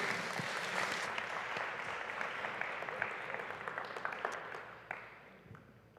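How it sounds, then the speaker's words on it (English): An audience at a senior community event gives a round of sustained applause, with dense, steady clapping that stays fairly quiet and slowly tapers off toward the end. "I'm going to let you all go ahead and go to your tables after we give you a round of applause."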